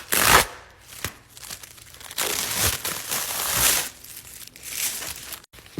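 Packaging from an unboxed day pad being scrunched by hand, close crinkling and crackling in irregular bursts with short quiet gaps.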